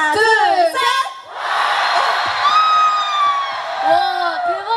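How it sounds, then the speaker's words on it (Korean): A festival concert crowd at Jangheung Water Festival lets out a big, sustained cheer and whoop on cue, rising after a short pause and holding for several seconds, with a performer speaking before and after it. "한 번 더 함성 소리 내주셨으면 좋겠는데 저희가 하나 둘 셋 하면 와 해주시는 거예요"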